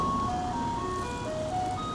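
Garbage truck in Taiwan playing a melodic ice-cream-van style jingle, bright tones stepping through a tune over street and traffic noise, loud and fairly near.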